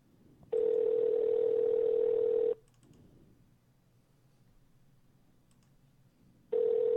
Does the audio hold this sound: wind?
no